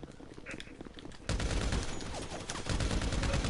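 Gunfire crackles in GTA Online. Bursts are scattered at first, then a dense, sustained fusillade starts abruptly and keeps going at moderate volume.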